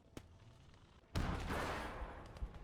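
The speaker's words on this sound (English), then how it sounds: "I'm not sure if it's my tank shooting at that or old mate's" Tank cannon fire in the WWII game Gates of Hell: Ostfront, a faint early thud followed by one heavy, booming blast that rolls on with a rumbling tail.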